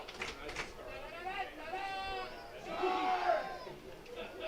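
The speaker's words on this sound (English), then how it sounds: "Crowd getting into it." Baseball crowd at a Barrie Baycats home game against the Toronto Maple Leafs raising a steady cheer and holler with a runner on third, the noise swelling toward the end.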